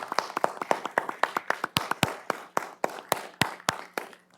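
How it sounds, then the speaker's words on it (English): Scattered hand clapping from a small gathering at a county commission meeting honoring a class valedictorian, with distinct separate claps falling in an uneven rhythm and fairly close, no voices over it. "Please join me in giving her a big round of applause"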